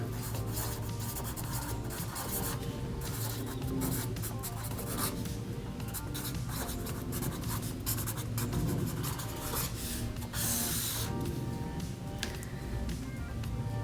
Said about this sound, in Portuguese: aqui vamos começar a escrever a nossa receita, começando pelo título